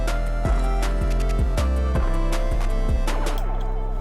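A bright synth bell melody from the Bitter Bell preset rings out in quick repeated notes over a deep pulsing bass and beat, dense and loud.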